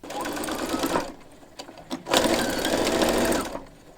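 A serger stitching patchwork dress fabric runs in two close, loud whirring bursts separated by a short pause and a click.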